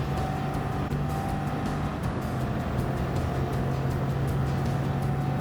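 Bugatti Veyron Gr.4 race car driven in Gran Turismo 7, a steady, close engine drone holding a sustained tone with a faint high whine, running continuously with no talk.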